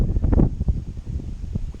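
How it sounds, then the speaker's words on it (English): Strong wind gusts across a lake during kayak fishing, buffeting the microphone in uneven, low, rumbling bursts that rise and fall without pause. "You can see how windy it is."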